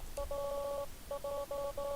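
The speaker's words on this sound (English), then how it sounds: "our phone is ominously ringing" A phone rings in the video game Undertale as a chiptune-like electronic ring of repeated short, even beeps in quick groups with brief gaps between them, clear and alone with no talking.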